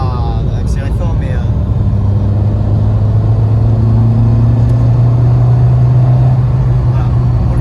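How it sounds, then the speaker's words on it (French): Peugeot 106 Rallye petrol engine idling with a light rev, a steady low intake drone and rumble close by, rising slightly in the latter half, with no talk over it. "le moteur, je vais vous faire écouter un peu le bruit d'admission"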